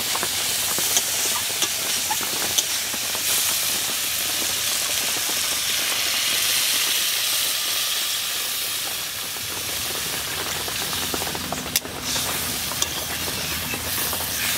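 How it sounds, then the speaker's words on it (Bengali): A steady, rushing hiss of steam escapes continuously from a cooking pot, unbroken for the whole stretch with faint clinks now and then. "এক সাইড দিয়ে বাষ্প বেরিয়ে যাচ্ছে প্রেশার কুকারের মতো"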